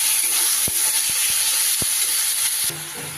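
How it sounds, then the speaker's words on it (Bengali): Large chopped tomato hits a pan of frying ginger, garlic and onion for a Bengali cabbage dish. A close, steady sizzle is punctuated by a few sharp spoon-against-pan clicks, then softens near the end. "আদা রসুনটা একটু ভাজা ভাজা হয়ে গেলে ওখানে দিয়ে দিচ্ছি একটা বড় সাইজের টমেটো"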